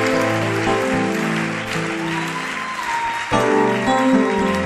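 A church congregation applauds the Lord in a steady, sustained wash of clapping over held keyboard or organ chords, with the music briefly shifting near the end.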